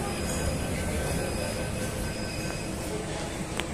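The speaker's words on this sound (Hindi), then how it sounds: "और पीछे टनकपुर जाने वाली मेट्रो आ चुकी है।" A metro train bound for Tanakpur pulls into a Delhi station, its rolling rumble and faint wheel squeal steady and moderately near amid platform bustle.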